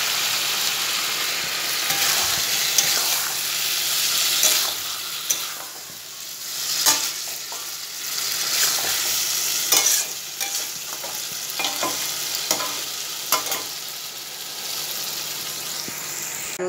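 Potato curry (aloo dum) sizzles steadily in a frying pan as it is cooked down until dry, with repeated close scraping stirs of the spoon cutting through the constant loud frying hiss.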